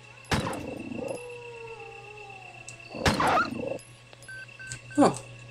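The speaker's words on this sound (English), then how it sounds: "I thought there were three dogs out here." Dogs in the Resident Evil video game give long, mournful howls, a drawn-out cry at the start and another near the middle, with a short yelp at the end over a steady game hum.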